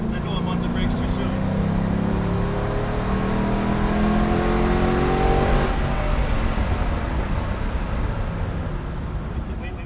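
A Mustang accelerates on the Mission Raceway track, its engine rising in pitch over several seconds in a sustained rev before easing off, with wind rush and a voice talking over it.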